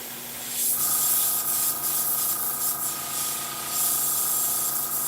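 An airbrush sprays paint thinned about half and half with thinner, a close continuous airy hiss that starts abruptly and holds steady, swelling slightly at times, with no talk.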